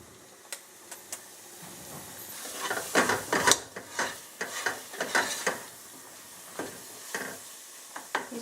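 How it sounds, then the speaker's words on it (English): Tomatoes frying in oil in a pot for vegetarian red lentil biryani, a soft sizzle under repeated scraping and stirring strokes of a spoon, close by and fairly quiet. "let them fry. When you see the separation in tomatoes and oil, then it's ready."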